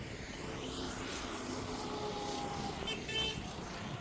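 A car travels along the Rajur Ghat mountain road in Buldhana, a faint, distant engine hum under wind with a brief horn-like tone, and light talk in the background.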